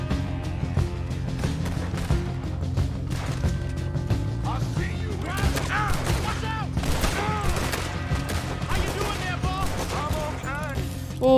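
Pistol gunfire in Red Dead Redemption 2 rings out as a dense run of sharp reports amid game sounds, loud and busy over roughly eleven seconds, with voices mixed in.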